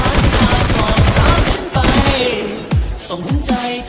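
Heavy gunfire in a shooting video game: rapid automatic bursts and sharp bangs crowd together at first, then thin into scattered loud shots, all close and dominant.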